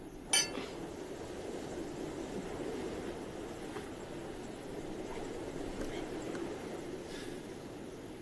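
Glasses touch in a toast with a single bright clink near the start, quick and clear. After it, only a low, steady background hum continues.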